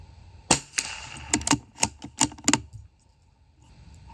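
Rifle shots fired while zeroing a 7-35 power scope at the range, heard as a string of about eight sharp, fairly distant cracks spaced irregularly over a few seconds, with no talk.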